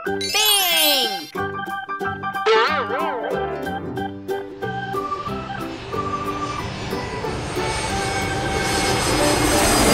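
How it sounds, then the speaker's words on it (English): A cartoon engine drone for a pink toy airplane plays over bright chiming, jingly children's music, steady and loud for the whole stretch. "pink airplane"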